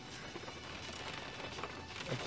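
Rain coming down outdoors in a steady, continuous hiss of drops pattering on surfaces, even in level from start to finish, with no voices.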